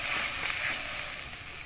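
Turmeric powder hits hot oil with cumin and garlic paste in a frying pan, giving a soft, steady sizzling hiss, fairly quiet and continuous throughout.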